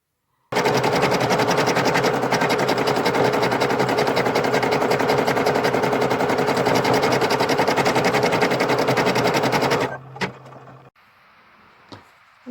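A sewing machine stitches a heart-shaped fabric patch onto a dog dress made from a baby sleeper. It runs as a loud, fast, steady mechanical rattle for about nine seconds, then stops, and a few faint handling clicks follow.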